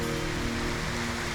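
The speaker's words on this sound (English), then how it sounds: "now it's just absolutely pouring" Heavy rain pours down outdoors in a storm, a dense, loud, unbroken wash of drumming with no voices.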